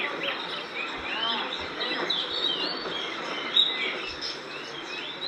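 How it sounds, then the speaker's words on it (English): Songbirds and parrots chirp and call at Yuen Po Street bird market in Mongkok, a dense layer of overlapping tweets and trills with a faint background hum of the market. "Now we're at the bird market"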